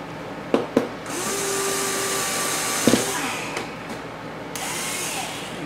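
A power drill fitted with a 1/2 inch bit bores a hole in a bicycle frame lug, whining steadily up close after a few sharp clicks, with brief pauses and restarts.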